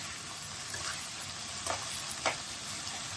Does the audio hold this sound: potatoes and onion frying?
yes